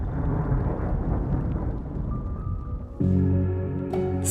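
Thunderstorm with steady heavy rain roaring throughout, joined near the end by a louder low rumble of thunder rolling in close.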